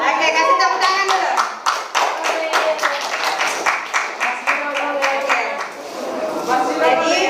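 A high school economics class claps for a presenting group, a brisk run of crisp, close hand claps that thins near the end, with children's voices faintly underneath.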